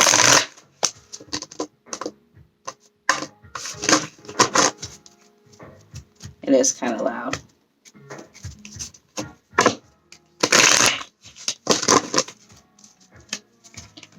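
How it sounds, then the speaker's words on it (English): Bursts of cards being shuffled and riffled, crisp rapid flutters repeating several times, with a voice speaking briefly between them. "shuffle these cards"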